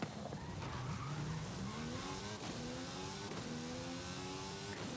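A race car laps a circuit in Forza Horizon 5, its engine climbing through the gears in repeated rising revs between upshifts, with some tire squeal, steady and close.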